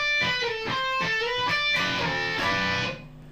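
An electric guitar plays a slow passage of two-note dyads with slides between positions, the notes sustained and connected, moderately loud with no talk.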